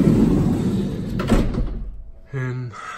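A Sprinter van door, on a van fitted out as a mobile barber shop, slides with a rumbling scrape and ends in a short thud. A person then speaks briefly over the quieter tail.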